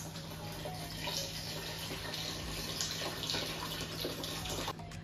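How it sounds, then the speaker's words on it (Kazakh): Cold water pours into homemade orange juice, a steady splashing stream that runs close and fairly loud for the whole clip, with no talking. "Енді дайындап қойған суық суымызды алып құйып, холодильникке саламыз."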